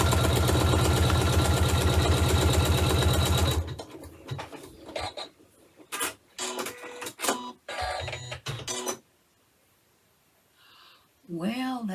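A sewing machine stitches close to the edges of a quilt, giving a loud, steady, rapid mechanical whir for about three and a half seconds. It then stops, and a person talks over faint handling sounds.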